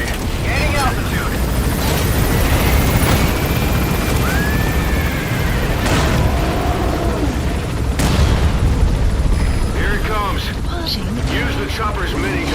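A military helicopter in Metal Gear Solid V flies with a heavy, continuous rotor roar throughout, loud and close, with booms and mechanical bursts layered over it and occasional voices under the noise.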